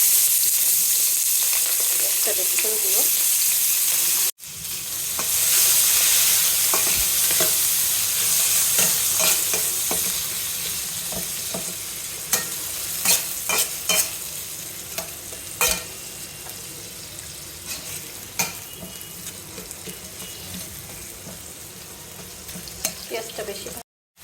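Onions dropped into hot, reused fish-frying oil in a wok for a Bengali fish dish, a loud continuous sizzle with frequent sharp stirring scrapes and clacks throughout, and a brief spoken line partway through.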